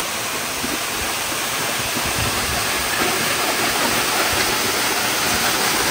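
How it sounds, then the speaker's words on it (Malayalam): Henrhyd Waterfall, the tallest in South Wales, roars as a dense, loud, unbroken wash of falling water heard from close up behind the cascade, with no voices. "നിങ്ങളിപ്പോ വെള്ളച്ചാട്ടത്തിന്റെ ഉള്ളിലാണ്, വെള്ളച്ചാട്ടം പുറകിലാണ്."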